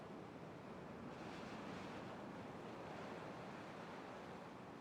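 Water rushing through a dam in the beaver colony game Timberborn, a steady broadband surge like surf that holds at an even level throughout with no voices.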